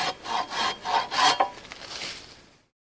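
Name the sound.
hand saw cutting a poplar branch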